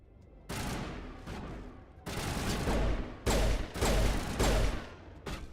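Gunfire in Mass Effect Legendary Edition comes as loud, sustained bursts of automatic fire separated by short pauses, heavy and close with booming low impacts.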